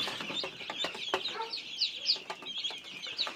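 Hens cluck softly and steadily while newly hatched chicks peep in high, scattered chirps close by in a coop.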